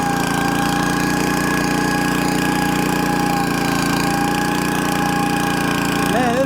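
The small engine of a lawn topdresser runs loud and close, with a constant droning hum that holds steady and rises slightly in pitch near the end.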